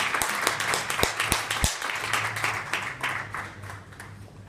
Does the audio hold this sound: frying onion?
no